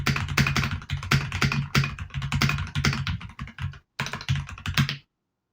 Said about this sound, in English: Let me try lowering my microphone closer to the keyboard so you can get a better sound of how it sounds.